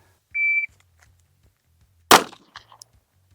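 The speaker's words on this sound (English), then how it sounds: "All right, first shots of the day." A single sharp pistol shot from a 5-inch M&P 2.0 cracks loudly at a range, preceded by a short electronic shot-timer beep, with a few faint clinks after the report.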